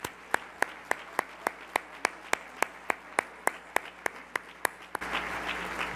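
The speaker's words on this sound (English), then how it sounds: "give a big round of applause to our panelists" At an education summit, lone sharp hand claps land in an even rhythm for several seconds before the wider audience joins in a fuller round of applause for the panelists.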